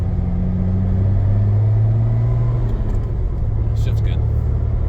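A Jeep TJ with a Dana 44 rear end on a test drive produces a steady engine rumble and road drone, with a lower hum at mid-clip and brief higher noises near the end.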